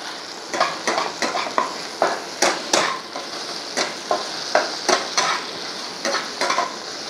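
Garlic, ginger and spices fry in a pan for chicken gravy, a steady sizzle broken by rhythmic scraping strokes of a spatula stirring, about a dozen close, crisp pulses.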